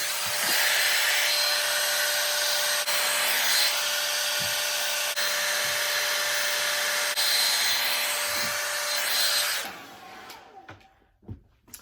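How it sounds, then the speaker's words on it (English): Hair blow dryer on the cool setting drying a lace closure wig, a loud steady whoosh running for about ten seconds before switching off, followed by faint handling noises. "And then with my blow dryer on cool, I'm going to dry that."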